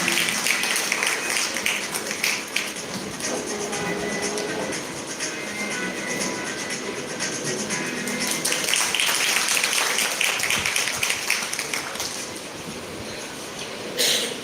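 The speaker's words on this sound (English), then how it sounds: "please give a big round of applause for this welcome" Audience at a college welcome event giving a big round of applause, a dense, continuous wash of clapping that holds steady for over ten seconds, then eases slightly near the end.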